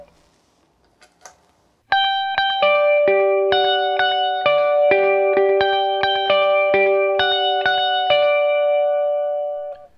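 Electric guitar played through a slapback delay pedal: after a short pause, a loud sequence of picked notes and chords rings out, each followed by a quick single echo, sustaining to the end.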